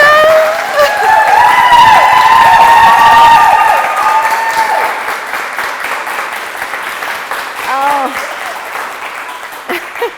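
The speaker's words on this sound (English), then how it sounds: "So everybody, clap and yell as loud as you can." A live studio audience on a talk show claps and cheers loudly, with whoops and yells over dense, sustained applause that gradually thins and fades toward the end.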